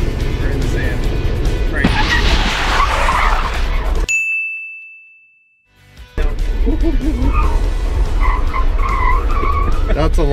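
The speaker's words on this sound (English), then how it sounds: "This thing does brake hard." A Chevelle with drum brakes brakes hard on a road dusted with snow, sand and salt, its tires skidding and squealing loudly. The sound cuts out briefly midway, and people talk over it.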